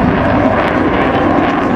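Loud, steady roar of an F/A-18 Super Hornet fighter jet making a high-speed pass at the Farnborough Airshow, a dense broadband rush sustained throughout the short stretch with no talk.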